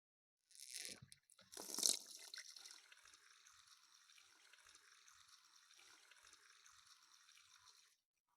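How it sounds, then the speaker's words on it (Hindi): Water flows through a small pipe in a classroom pressure-difference demonstration, starting with a louder gush and splash, then settling into a steady, soft trickling hiss that runs alone until it stops. "इस पाइप में से पानी फ्लो कर जाएगा"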